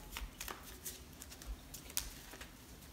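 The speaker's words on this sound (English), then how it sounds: "And now we're gonna shuffle again." Soft riffling and flicking of a deck of trading card game cards being shuffled, a quick run of light papery rustles up close.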